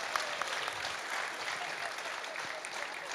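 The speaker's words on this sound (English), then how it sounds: "Let's give them a round of applause." A church audience at a Christmas Eve service applauds the guests, dense steady clapping from a crowd for about three seconds with no voice over it.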